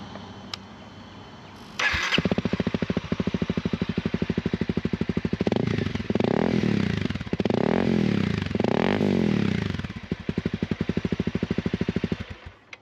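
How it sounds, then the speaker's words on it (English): A 2017 Honda CRF 250L motorcycle engine starts and idles with a rapid, throbbing exhaust note, revving up several times in bursts, close and loud. "let's get an exhaust clip"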